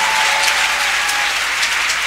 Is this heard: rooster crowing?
no